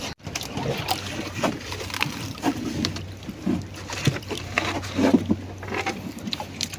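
A small outrigger boat moving on open water near an island, giving steady splashing and lapping with wind buffeting the microphone and a low hum underneath.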